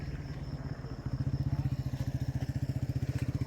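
Several Yamaha YZF R15 motorcycles idle nearby before leaving, their engines putting out a steady, fast, pulsing low thrum that firms up into even rhythmic beats, with no talking.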